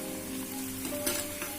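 Small fish wrapped in leaves sizzle and steam in a hot karahi while being stirred, a brief, close, steady frying hiss with a few scraping touches.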